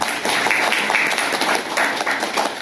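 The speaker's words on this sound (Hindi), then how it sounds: "आप लोग खुद के लिए जोरदार ताली हो जाए।" A large crowd at a homeopathy talk gives a loud, sustained round of applause, steady and dense throughout with no pause.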